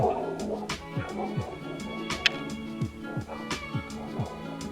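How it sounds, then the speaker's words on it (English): Several dogs bark repeatedly in quick overlapping bursts, fairly close and loud, with some yips mixed in. "They're always barking"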